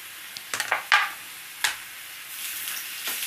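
Garlic drops into golden-brown onions frying in a pan, giving a few sharp, close bursts of sizzling with stirring scrapes, then a softer hiss.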